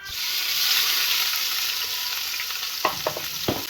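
Pancakes, eggs and sausages fry in a pan with a constant loud sizzle. Several close clinks and scrapes of a utensil stirring follow toward the end.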